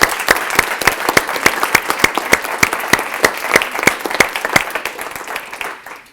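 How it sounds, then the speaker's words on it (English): Applause from an academic audience after thesis presentations at a competition, many hands clapping with sharp individual claps standing out, steady then tapering off at the end. "Let's give them a round of applause."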